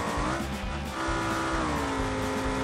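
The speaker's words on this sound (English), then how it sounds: "Oh, no, he spun out." A car in BeamNG spins out during an off-road race, its engine note sweeping up and down with a steady drone as the tires scrub, loud and close throughout.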